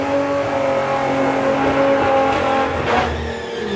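Two drag racing cars, one a Volkswagen Golf, launch together down the strip at a national drag meet, engines roaring loud and rising steadily, with a brief tire squeal near the end.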